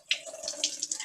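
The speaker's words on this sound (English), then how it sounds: "but it's going down the drain" Salty brine water from a kitchen pan is poured down a sink drain, a soft close splashing gush with a few brief spurts over about a second, no voices.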